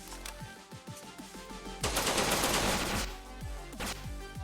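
Rapid gunfire in the card game Decks of Dexterity, with bursts of repeated shots building into a loud, dense volley midway before tapering back to spaced shots.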